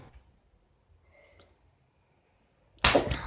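A sharp, loud slap landing on a person in a forfeit challenge, a single close impact near the end after near silence.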